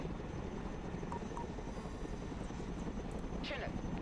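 A Chinook helicopter in the modern warfare strategy game Broken Arrow gives a steady, loud rotor drone that holds constant throughout, with faint game sounds and a voice in the mix.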